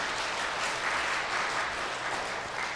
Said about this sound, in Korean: 우리 감사의 박수하겠습니다.